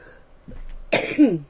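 A single harsh cough bursts out close up, with a rough throaty tail, after a moment of near silence and a faint shuffle.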